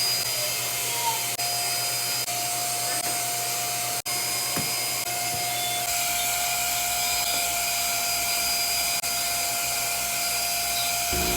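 A household vacuum cleaner runs continuously at close range, a steady whining hum with a constant tone and brief bumps as it moves, used during a cold-weather morning cleaning routine.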